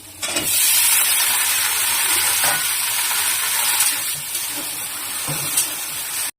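Okra frying in hot oil with ground cumin and turmeric in a pan, a loud, continuous sizzle with bursts of hiss and occasional stirring scrapes, close and steady throughout.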